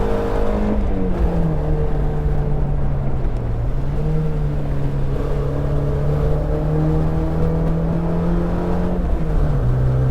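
Mazda Miata engine on the Alastaro race circuit in Finland, a continuous loud in-cabin drone with tones that slowly rise and dip as the revs change through corners, steady throughout and without voices.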